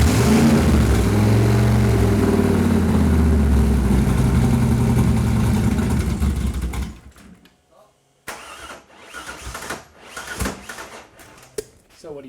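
A project car engine cranks and fires, then roars at high revs for several seconds before cutting off, followed by scattered bursts of revving and mechanical noise, with people talking over it.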